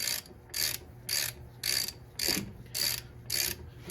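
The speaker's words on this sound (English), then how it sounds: "we'll get our caliper tightened back down" A ratchet tightens the brake caliper bolts on a 2008 Ford Edge, giving eight crisp, evenly spaced bursts of rapid clicking at close range, each stroke about half a second apart.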